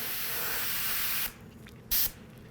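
An airbrush sprays a steady hiss that cuts off, then spits out a short, sharp burst of paint as the trigger is pressed.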